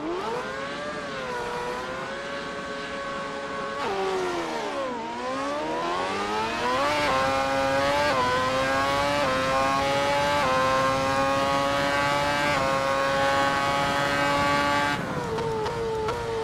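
A Ferrari LaFerrari launching at a race start, its loud engine note climbing steadily through the revs with brief dips at gear changes, sustained and close with no talk.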